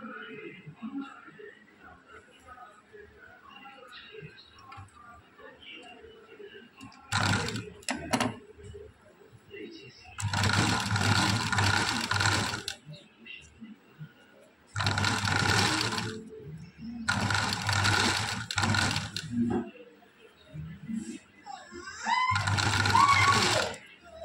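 A sewing machine stitches a button in several loud, steady bursts of rapid whirring, each lasting a few seconds with short pauses between them, heard close up while someone speaks quietly during the gaps.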